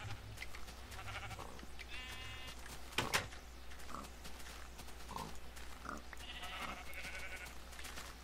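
Several short, nasal sheep bleats in Minecraft ring out over a steady low background hum, with one sharp louder burst near the middle.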